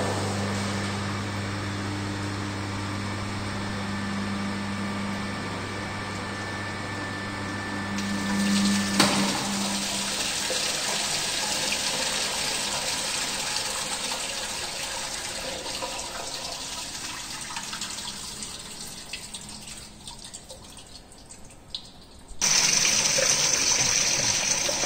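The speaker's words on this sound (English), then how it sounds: "I will switch on the motor and allow water to rise up to the sill level." A pump motor hums steadily in a laboratory ogee weir channel, then shuts off as rushing, gushing water fills and flows through the channel, continuous and fairly loud with no talking.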